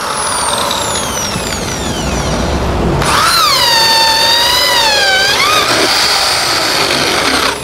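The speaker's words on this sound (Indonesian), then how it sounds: "Kita coba bor kipas self drilling nih 19 mili." A loud DongCheng DZJ02-13 electric impact drill whines and bores a 19 mm spade bit into wood, its pitch rising and dipping as the bit cuts through, with a higher tonal squeal in the middle.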